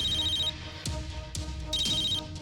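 A telephone rings with an incoming call, giving two electronic trilling bursts separated by a short gap, with soft low background sounds beneath.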